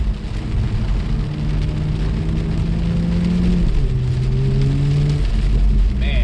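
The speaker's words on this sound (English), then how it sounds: "even though it's raining" Steady broadband hiss of heavy rain with a low Toyota Supra engine drone and rising, falling car tones underneath; no voices.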